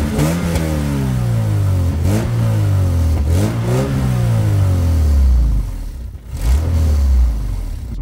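A 1989 Toyota MR2 AW11's 4A-GE engine revs repeatedly from idle, each blip rising sharply then falling back, loud and close with a steady hum between pulls.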